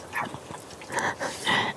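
A dog whimpering outdoors at night on a camping trip, a few short high whines in quick succession, close by and fairly clear, with no talk.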